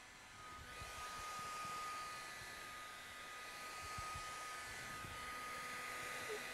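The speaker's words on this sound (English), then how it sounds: "We heat the vinyl and we go directly into the recess of the deformation." Heat gun blowing hot air onto vinyl wrap over a recessed dent, a faint steady whooshing hum that rises in and holds evenly throughout, with no talking.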